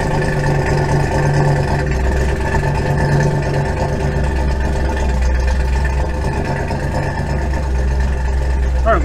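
A car engine fitted with Holley Sniper EFI runs loud and close at a steady idle, with a constant deep rumble throughout and no change in pace.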